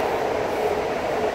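A BART Fleet of the Future electric train sits at a station platform, a steady loud rumble and hum of rail cars filling the moment without break.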